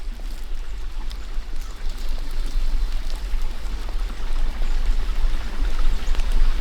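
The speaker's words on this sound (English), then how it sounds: "you can see the running water underneath it." A stream running beneath a crossing at Laurel Creek, a steady close rush and trickle of water with a low rumble, continuous throughout.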